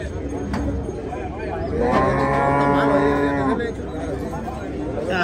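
A large bull moos loudly while being loaded into a truck, one long drawn-out low call rising in the middle of the clip, with people talking around it.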